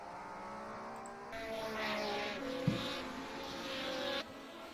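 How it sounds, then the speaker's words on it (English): A 1975 Ferrari race car engine in a racing video game, a steady mid-pitched purring drone that swells briefly and then settles back, heard alone with no talk. "1975 Ferrari engine, and it's got some purr to it"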